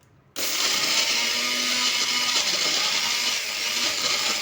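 A kitchen mixer grinds raw tomato pieces with mustard seeds, switching on abruptly and then running as a loud, steady, high-pitched whirring drone close by for several seconds, with no talk over it.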